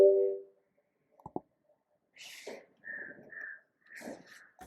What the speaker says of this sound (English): It is throwing some kind of error sound because we have defined width only 4